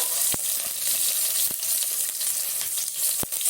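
Tomato and onion fry in ghee with a constant hissing sizzle, punctuated by a few sharp pops or utensil clicks, close-up and with no voices.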